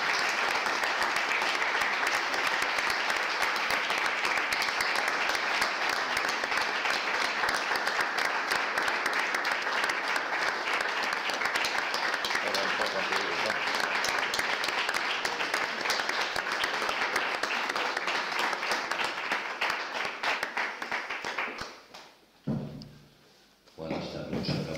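An audience gives a long, loud ovation for a performer, with dense continuous clapping that fills the room for about twenty seconds before tapering off, followed by a few thumps and scattered final claps.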